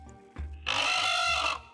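A harsh rooster-like squawk used as a sound-effect element for a creature, a brief low thump and then a loud, bright rasping screech that holds for about a second before cutting off.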